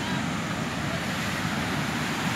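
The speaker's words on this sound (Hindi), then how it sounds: "पानी की गड़गड़ाहट" Fast-flowing river water rushes over stones near Roing, a steady, broad roar of turbulent current heard close up with no break.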